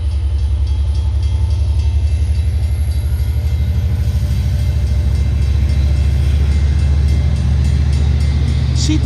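A Long Island Rail Road commuter train rumbles past close by, a loud steady low roar with rhythmic clatter of wheels over rail joints, continuous throughout with no voices.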